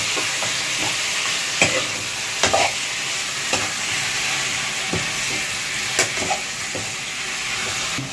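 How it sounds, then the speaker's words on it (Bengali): Turmeric powder is stirred into a fish head frying in a pan, a steady loud sizzle broken by repeated scraping clicks of the spoon against the pan. "এবার দেওয়া হবে হলুদ গুঁড়ো, দিয়ে ভালো করে কিন্তু নাড়িয়ে নেওয়া হবে।"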